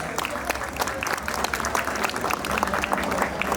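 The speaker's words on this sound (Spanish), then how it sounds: "¿Dónde están las palmas para Jorge Equipa Mendoza? ¡Fuerte las palmas!" Applause from an audience at a Tiarichi Huaylia festive gathering in Antabamba, steady clapping throughout at moderate distance, fairly quiet.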